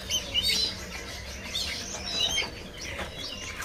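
A putri mandi songbird chirping at a bird market, a few clear high chirps and short tweets in quick bursts, close by over a low busy background.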